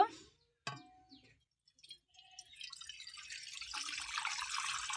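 Water pours into a cooking pot set on a stove for boiling split peas (motor dal), building from a thin trickle into a steady, fairly quiet rushing stream after a few faint drips and clinks.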